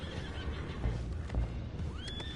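Horses neigh and whinny in a Red Dead Redemption 2 game scene, a couple of loud calls with a rising whinny near the end, over a low rumbling background and faint hoof clip-clop.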